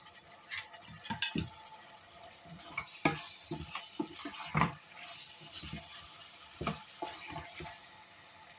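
Tomatoes tipped into tomato paste frying in a pan on the stove, with soft stirring scrapes and a quiet sizzle spread through the whole stretch, a few sharper utensil knocks standing out, and no talk.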